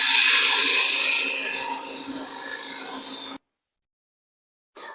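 Wood lathe turning a garden dibble, a gouge clearing waste near the top of the shaft: a steady, close rasping cut for about three seconds that slowly softens, then silence and a brief scrape at the end.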